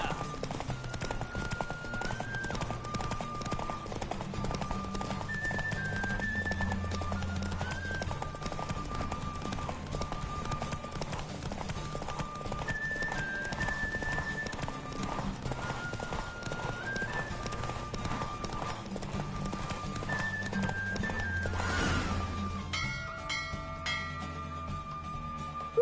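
Galloping horse hooves in a Witcher 3 horse race, a steady rapid clip-clop rhythm running throughout over game music tones, with an occasional whinny.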